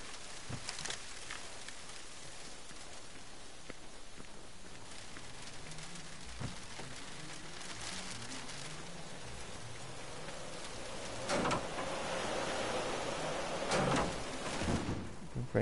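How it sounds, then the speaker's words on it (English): Steady rain patters down in the video game Generation Zero, a constant wash of drops with a few louder splashes and knocks rising near the end. "Rain's coming down."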